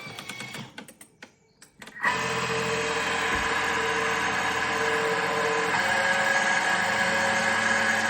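A kitchen appliance motor starts up after a few clicks and runs steadily at speed 5 in a loud, even whirring hum. The hum holds at a constant pitch for several seconds.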